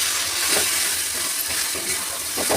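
Spices for a chicken and potato curry being stirred and fried in a pan, a continuous loud sizzle with scraping stirs breaking through, close up and with no talk.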